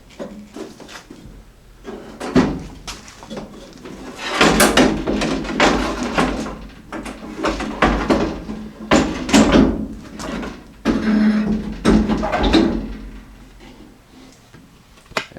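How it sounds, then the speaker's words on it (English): Window glass being worked loose and lifted out of a Jeep J10 door in a workshop, with repeated rubbing, scraping and knocking of glass against the door frame and channel, close and fairly loud, no talking. "Now we should be able to grab our main window and lift it out of the door."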